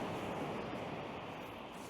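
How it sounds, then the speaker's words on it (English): Rough sea surges and splashes against a high sea wall at a beach, heard as a loud, continuous broadband roar with wind buffeting the microphone, with no distinct individual wave breaks. "the water's splashing fucking right up onto it"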